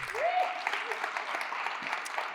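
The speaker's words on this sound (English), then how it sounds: "Please give another round of applause for Emma." An audience applauds for Emma at a storytelling event: steady, dense clapping fills the whole stretch, with a short whistle-like cheer rising near the start.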